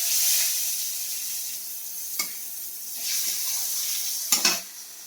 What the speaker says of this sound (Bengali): তেজপাতা দিয়ে দিলাম। তারপরে পাঁচফোড়ন দেব। তারপরে শুকনো লঙ্কা।